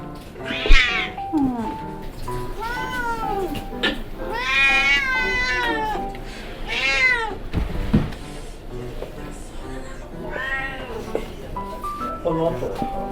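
A cat meows again and again, long pleading cries with rising and falling pitch that keep coming while it wants to be picked up and held, close and clear, with soft background noise between calls.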